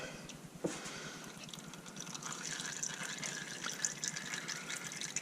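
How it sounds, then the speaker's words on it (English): Oil draining from a Yamaha Nytro snowmobile during an oil change, a steady trickling pour with occasional drips, fairly close and continuous throughout. "Drain some more oil out of there."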